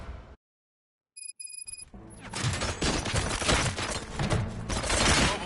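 Gunshots in RoboCop: Rogue City erupt after a stretch of silence and a few metallic clicks, building into a loud, dense, continuous barrage of rapid fire.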